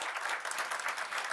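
Applause from a conference audience for a panelist at an investment event, a steady, dense clatter of many hands clapping together for the whole moment.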